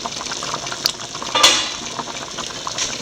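A prawn curry (theeyal) bubbles and simmers in a pot at a gentle boil with soft, irregular gurgles and a brief clink of a lid, no voices.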